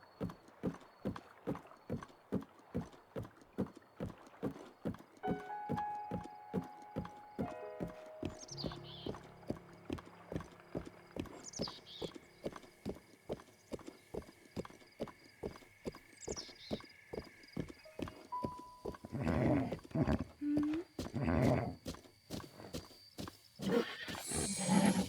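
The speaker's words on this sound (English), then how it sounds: "Haven't tamed a horse in a very long time." Horse hooves clip-clop at a steady, rapid gallop through most of the stretch in The Legend of Zelda, with a few neighs and whinnies breaking in, close and fairly loud, and busier game sounds building toward the end.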